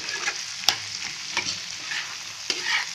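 Egg chana is stirred and mixed in a hot pan, with a soft steady sizzle and a few distinct scrapes and taps of a spoon against the pan.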